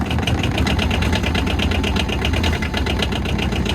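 An Arctic Cat Diesel 700 engine idles steadily right after a cold start, a loud, close, continuous mechanical chugging with a fast regular knocking pulse and no talk over it.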